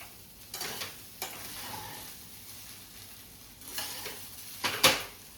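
Cooked jeera rice with cumin seeds gently stirred in a pan at home, soft scraping and stirring strokes in a few separated bursts with a sharper clink near the end, fairly quiet with no talking.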